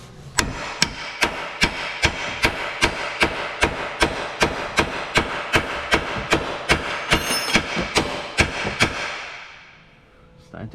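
A hammer repeatedly whacks a chisel driven in to free a ball joint on a 2016 Nissan Qashqai front lower arm, about twenty sharp metallic blows in a steady rhythm, close and loud, then the ringing fades out.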